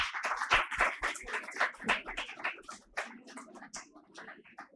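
A small audience at a school literature festival session applauds, a few people clapping irregularly and close by, fading out after several seconds with no speech.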